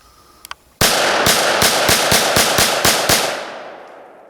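Handgun rounds crack sharply at a shooting range, about nine shots in a quick, fairly even rhythm, loud and close with ringing decay after the last shot.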